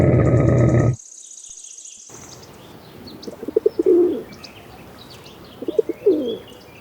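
A pigeon coos in two short soft low bursts over a quiet outdoor background, after a brief loud animal call at the start; no talking.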